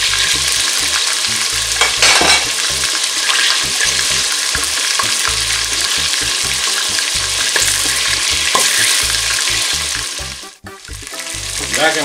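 Small onions dropped into a pot of boiling water, giving a loud, dense, continuous bubbling and rushing roar close by that holds steady throughout and dips briefly near the end, without any voices.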